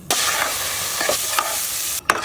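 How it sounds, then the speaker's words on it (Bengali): Spiced minced meat frying in a pan with bamboo shoots on hand, a close, bright sizzle broken by several sharp scraping stirs of a spatula. "ভাজা ভাজা করে রান্না করে নিতে হবে।"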